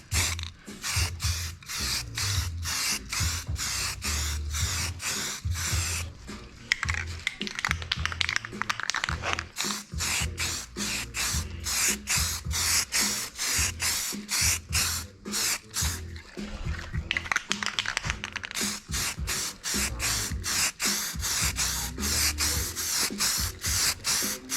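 Spray primer is applied to a car part in rapid, repeated short hisses from a rattle can, bursts of close, crisp spraying with brief gaps, alone without speech.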